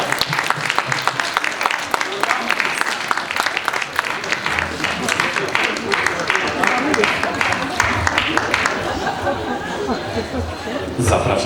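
Applause at a festival award ceremony in Włocławek: many hands clapping in a dense, sustained burst, mixed with crowd chatter and voices talking over it, tapering slightly toward the end.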